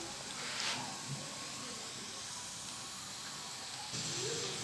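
Mutton keema balls frying in hot oil, a steady soft sizzle and hiss throughout with a couple of brief louder spatters, quiet and close.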